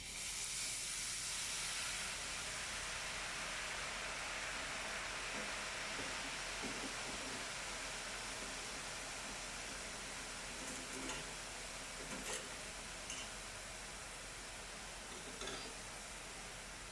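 Boondi batter frying in hot oil for spicy kara boondi: a steady, fairly soft hiss of bubbling oil that runs throughout, with a few faint clicks.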